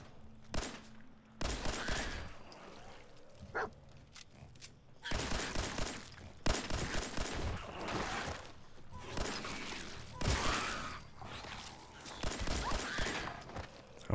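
Repeated bursts of gunfire in Fallout 4 aimed at mole rats, loud and close, firing in rapid clusters with short pauses between volleys.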